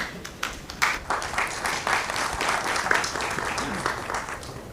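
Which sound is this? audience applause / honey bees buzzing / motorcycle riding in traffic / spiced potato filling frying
audience applause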